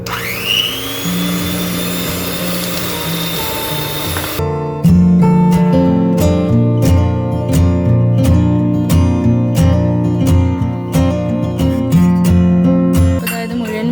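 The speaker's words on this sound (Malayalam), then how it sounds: "ഒരു മീഡിയം സ്പീഡിൽ ഇട്ട് ഇത് വിപ്പ് ചെയ്തെടുക്കുക." An electric mixer whips cream at medium speed for mango ice cream, first as a steady whirring hum, then with a stronger motor drone and a rapid rhythmic rattle of beaters against the bowl, loud and close throughout.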